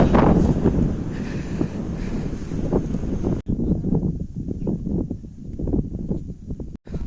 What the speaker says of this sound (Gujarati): અને પવન પણ જોરદારનો છે